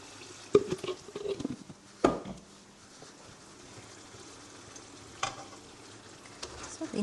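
Mutton in a pot, just coated with a mint, coriander and green chilli paste, gives a faint, low sizzle broken by a few sharper scrapes and clatters of stirring.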